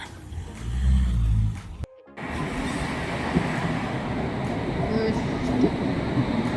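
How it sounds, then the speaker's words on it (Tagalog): A London train bound for Aldgate pulls away from the platform, a loud, continuous rumble and rolling rattle that builds after a brief cut, with a voice heard early on. "The train now is ready to depart."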